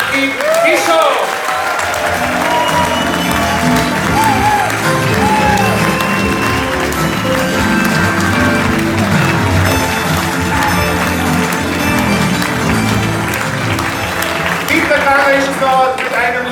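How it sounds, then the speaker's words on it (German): Sustained applause from a crowd at a ball, dense clapping filling the room over music, with a voice speaking over it. "Recht herzlichen Applaus für Papa Dunga"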